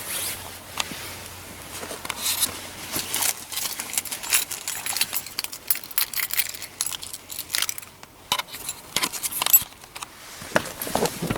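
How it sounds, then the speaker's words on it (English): Keys jangle and clink in irregular bursts, close and fairly quiet, with brief rustling between the metallic rattles. No one speaks. "Let me get my keys."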